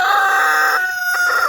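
A rooster crowing loudly and close by, one long strained call that breaks off near its end.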